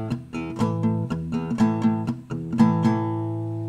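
Acoustic guitar strumming the pre-chorus of a song in a loop-pedal arrangement, steady rhythmic chord strokes with ringing harmonics, close and clear with no voice.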